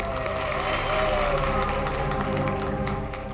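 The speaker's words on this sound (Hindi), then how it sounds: "क्या बात है, तालियां बनती है इस बात पे डीकेसी चैरिटी के लिए।" Applause and cheering from a crowd at a charity event fill the room steadily for a few seconds, with some voices mixed into the clapping.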